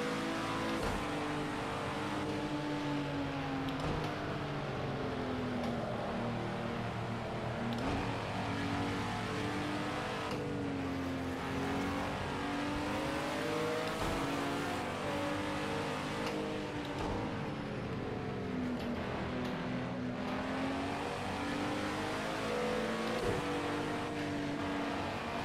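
Race car engine in Project CARS 2, loud and continuous, repeatedly climbing in pitch under acceleration then dropping on shifts, with no voices over the sustained roar.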